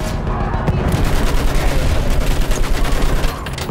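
Rapid machine gun fire rattles on continuously through a Battlefield 1 battle, loud and dense with booming gunshots layered throughout, easing slightly near the end.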